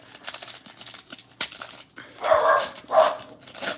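A pet dog barks a few times nearby while cards rustle, with a couple of louder bark bursts toward the end and no talking.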